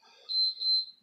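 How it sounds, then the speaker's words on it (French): A workout interval timer sounds two short, high electronic beeps in quick succession, clean and alone against silence. "on attend le bip sonore"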